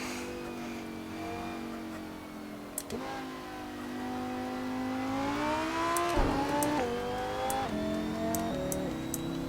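A race car in the Assetto Corsa driving sim revs hard and climbs through its seven gears, each sharp upshift cutting the rising engine tone with a bang, steady and loud with no talk.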